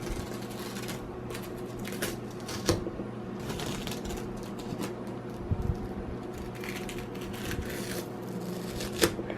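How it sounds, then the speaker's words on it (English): Masking tape peeled off a hand-painted circus sign, heard as continuous close crackling and ripping with scattered sharp snaps and ticks throughout, no talking. "Let's take off all of the tape very, very carefully."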